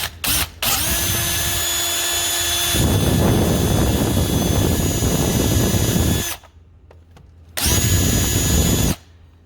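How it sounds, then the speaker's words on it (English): A power drill whines loudly in long bursts, stops briefly, then starts again for another short run, drilling into a tire for a TPMS repair. "So I'm going to drill some of it out on camera"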